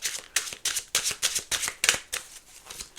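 Tarot cards are shuffled by hand in a quick series of crisp, papery riffles and slaps, about a dozen bursts at a brisk, uneven rhythm, close by and fairly quiet.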